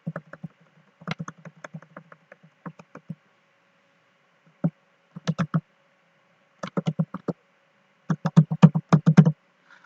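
Bursts of fast keystrokes on a computer keyboard entering payment card details, clicky, close taps in short runs separated by pauses.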